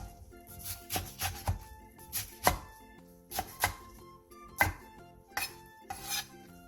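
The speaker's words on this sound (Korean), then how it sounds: "청경채를 먹기 좋게 3cm 정도 길이로 잘라주세요." A knife cuts bok choy into roughly 3 cm lengths on a board, with a dozen or so close, crisp chops that come in quick clusters separated by short pauses.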